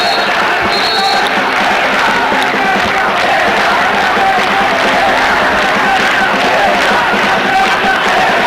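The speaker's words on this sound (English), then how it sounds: "The crowd are loving it." A large crowd roars at a 1994 World Cup field hockey final between Pakistan and the Netherlands in a stadium, a steady wall of cheering and chanting, with faint whistles and horns in the mix.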